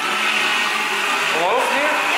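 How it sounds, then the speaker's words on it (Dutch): Immersion blender switched on and mixing, a steady, close, loud whir with a slight pitch shift as the blade works through the contents, with no break in the sound. "Ik moet namelijk deze staafmixer hierin doen. En dan aanzetten en dan heel langzaam omhoog gaan."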